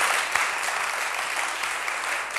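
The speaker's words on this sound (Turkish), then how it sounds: "Bravo, alkış." A television studio audience applauding on a Ramadan evening show, a dense, steady round of close, even clapping throughout, with no talking over it.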